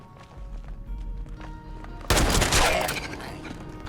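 Gunfire aimed at feral ghouls in Fallout 76 erupts suddenly in a loud close burst of overlapping shots after a quieter stretch of game ambience with faint clicks, then decays in a ringing tail.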